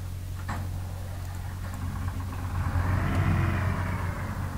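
A MAZ truck in the SpinTires game starts and drives off, its steady low engine drone swelling slightly as it gets moving, with no one speaking.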